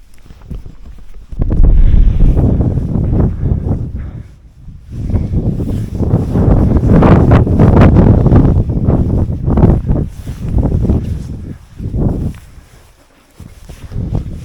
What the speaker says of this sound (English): Because of the wind blowing through this little crevasse I'm in, this gully, this ridge.